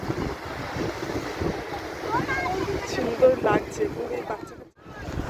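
Wind and breaking sea waves wash steadily along Digha beach as a constant broad rush. People talk nearby over it.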